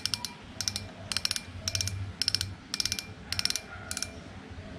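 A Penn Spinfisher VI spinning reel with IPX5 water sealing and fresh water-resistant lubricant gives about eight quick bursts of sharp ratchet clicking in a steady rhythm, close and distinct over a low background hum.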